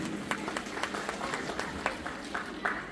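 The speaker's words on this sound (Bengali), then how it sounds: "তিনজনের জন্য একটু জোরে করতালি চাইছি" Scattered, fairly sparse clapping from an audience at a dance awards ceremony, with individual claps standing out in an uneven rhythm over a murmuring room.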